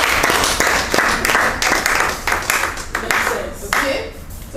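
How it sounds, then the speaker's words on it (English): An audience at a business opportunity expo claps loudly for several seconds in a dense, sustained patter that tapers slightly toward the end, with some talking mixed in. "Please clap for P1."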